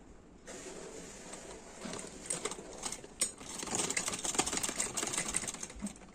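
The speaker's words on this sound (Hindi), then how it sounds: "और अब हम इस पर सिलाई करते हैं।" Sewing machine stitching the fitting seam of a side-plate frock, a steady rapid whirring that starts abruptly and grows denser and louder, running alone without voices.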